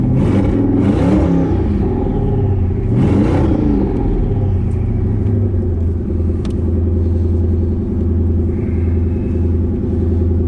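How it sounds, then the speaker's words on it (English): Ford Coyote V8 fitted with an On3 twin turbo kit, revved twice in quick succession, then settling into a loud, deep rumbling idle close by with no talk. "Let's give it a rev or two."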